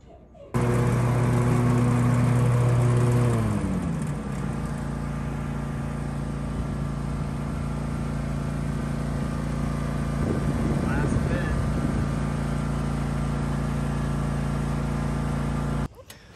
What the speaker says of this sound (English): I spend a lot of time out here mowing